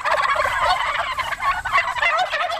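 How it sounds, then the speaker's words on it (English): Bourbon red turkeys gobble loudly and close by, a dense run of overlapping rattling calls that continues without pause, with no talk. "John Caveney, perhaps best known for the bourbon red turkeys he raises"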